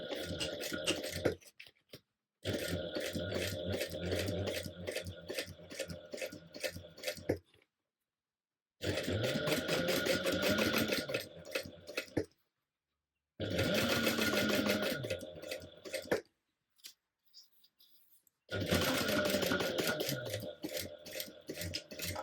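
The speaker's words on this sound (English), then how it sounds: "go ahead and top stitch towards the bottom as well as the seam allowance" A sewing machine top stitching a seam and its seam allowance runs in several steady bursts of rapid mechanical chatter, separated by short silent pauses, close and moderately loud.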